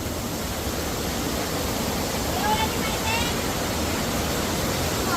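Steady broadband rush of a river flowing near Hulugan Falls in Luisiana, Laguna, a continuous close wash of water with no breaks.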